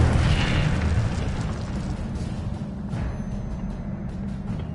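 Incendio fire spell cast in the Hogwarts Legacy video game, a sustained whooshing, rumbling blast of flame that stays loud and dense throughout with a slight swell at the start.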